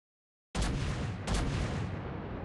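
Ship guns firing in a naval video game: silence, then a loud deep boom followed by a second blast soon after, both trailing into a long rumbling tail.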